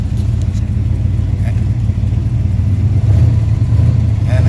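A 1986 Oldsmobile Cutlass four-door idles with a steady, close mid-low engine drone that swells slightly as it revs, running alone without speech.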